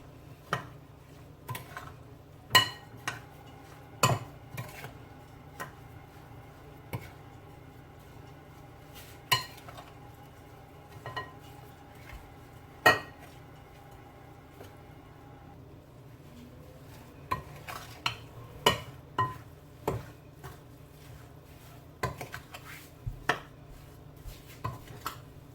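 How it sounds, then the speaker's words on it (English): A spoon stirring cassava pudding ingredients in a bowl, with irregular sharp clinks and scrapes against the bowl over a quiet background, sometimes spaced out and sometimes in quick clusters. "Just gonna combine these ingredients"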